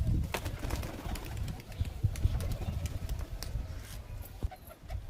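Released pigeons from a loft take off, with sharp wing claps and flapping bursts scattered over low rustling and faint cooing, close by and fairly quiet.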